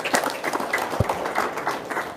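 A small audience claps at a spoken gathering, giving a scattered, uneven patter of hand claps at moderate loudness, with a few voices mixed in.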